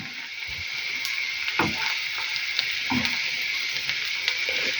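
Onion and carrot fry in a pan, a steady soft sizzle with occasional stirring scrapes, close and alone without talk.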